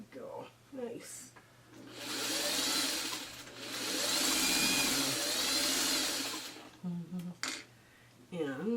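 A sewing machine stitching quilt fabric runs in a steady whirring burst lasting several seconds, framed by short starts and stops with some handling noise.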